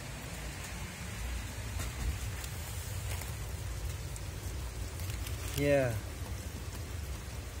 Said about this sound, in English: we got some good rain here